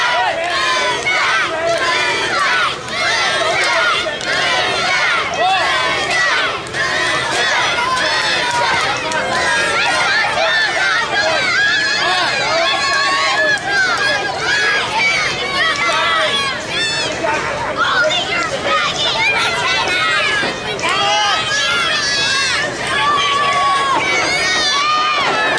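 A packed live wrestling crowd roars and cheers continuously during an independent match, a dense wall of shouting voices that stays loud and close throughout with no breaks.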